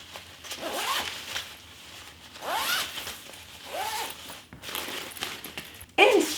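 A zipper on a sturdy mesh travel bag is pulled in a few quick, rasping strokes at close range, with a voice talking faintly underneath.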